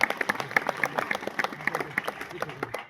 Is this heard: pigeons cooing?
no